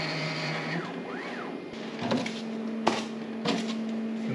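A Bambu Lab X1-Carbon 3D printer runs its calibration routine up close, with rising and falling stepper-motor whines, a steady low hum, and several sharp clicks and knocks as the bed and toolhead move.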